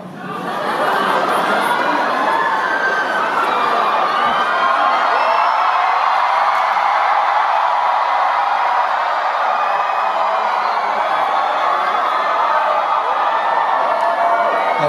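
A concert audience screams and cheers, a sustained loud roar of high-pitched shrieks and whoops filling the space without a break.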